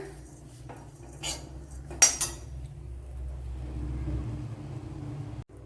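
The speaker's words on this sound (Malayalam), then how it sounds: "ഇതിനെ ഇനി നല്ലപോലെ ഒന്ന് വറുത്തെടുക്കാം" Cashew masala roasting in a pan with coriander powder and curry leaves: a spoon clinks and scrapes against the pan in a few sharp knocks over a low steady rumble, with no talking.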